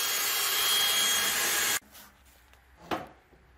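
Magic trowel smoothing a fresh stampable concrete overlay, a steady gritty rasping scrape for almost two seconds that stops abruptly, followed by quieter faint scuffs and one brief louder swipe.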